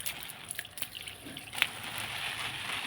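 Water splashes and trickles onto potted garden plants, including green chilli plants: a faint, soft, continuous wash with a few small drips and spatters, and no voices.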